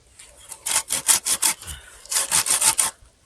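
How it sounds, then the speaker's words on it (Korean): Wood is sawn at a winter campsite in two quick rhythmic runs of close, rasping push-pull strokes, about six strokes each with a short pause between, with no talking. "이걸로 나무를 조금 더 다듬어볼게요"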